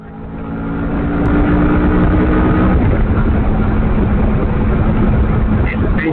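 A derestricted Kawasaki Vulcan S motorcycle engine swells to a loud, sustained roar as it pulls hard at full throttle in traffic, heard close up with steady wind rush and no talking.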